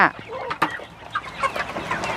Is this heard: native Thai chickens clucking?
yes